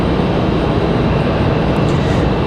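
A Boeing 787 Dreamliner touches down at Raleigh-Durham airport: a loud, steady broadband jet roar fills the whole moment without a break.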